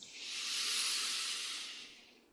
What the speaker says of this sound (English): at the count of 3, we'll breathe in.